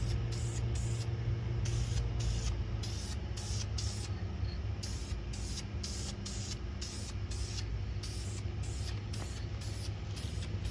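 An aerosol spray paint can hisses steadily over engine parts of a 350 Chevy rebuild, a close, continuous spray broken by quick rhythmic pauses and the rattle-free pulse of short bursts, with no talking.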